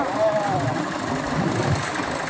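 A tractor engine runs steadily on a hillside farm trail, a continuous low rumble close by with a faint vocal sound partway through.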